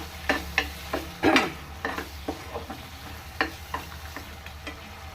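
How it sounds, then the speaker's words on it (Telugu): Pre-fried potato pieces go into a simmering paneer masala curry, a quiet bubbling sizzle with several distinct spoon taps and scrapes against the pan, spaced irregularly and close. "ఇప్పుడు ముందుగా వేయించి పెట్టుకున్న ఆలు వేసుకుందాం అండి, పొటాటో ముక్కల్ని."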